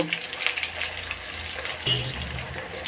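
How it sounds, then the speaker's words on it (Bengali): Potato chunks frying in hot oil with bay leaf in a pan for a Bengali vegetarian dhoka dish, a steady broadband sizzle with a few brief crackles, close and moderately loud throughout. "গোটা গোটা করে আলু কেটে দিয়েছি সেটা এবার ভালো করে লাল করে ভেজে নেব"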